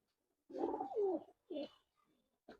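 Silver pigeons coo close by in a loft, one long rolling coo followed by a shorter one and the start of a third, with quiet gaps between and no talk.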